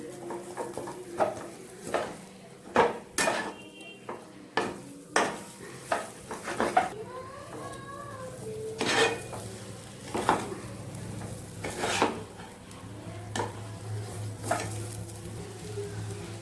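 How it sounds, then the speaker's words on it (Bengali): A utensil scrapes and knocks against a metal wok in irregular strokes as a potato mixture is stirred, while a soft sizzle of frying continues underneath. "আমার তো কড়াই লেগে যাচ্ছিলো, নাড়া হয়ে গেছে"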